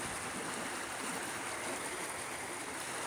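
Water flowing through a ditch, a steady broadband rushing and gurgling that holds constant and fairly close, with no voices.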